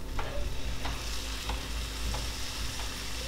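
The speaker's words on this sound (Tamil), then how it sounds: "இதெல்லாம் போட்டு நல்லா வதக்கினதுக்கப்புறம் அடுத்ததாக இதில் பார்த்தீங்கன்னா நாட்டு தக்காளி 2 சேர்த்துக்கோங்க." Native tomatoes sizzle steadily in a hot pan as they are sautéed for chutney, with soft stirring scrapes every half second or so and no talking.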